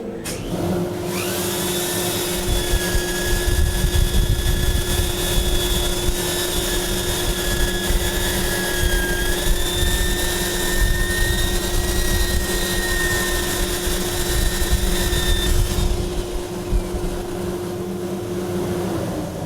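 A power sander whirs steadily against a warped wooden bowl spinning on a lathe, making a loud continuous hum and rasp with a whining tone that wavers slightly for about fifteen seconds before stopping.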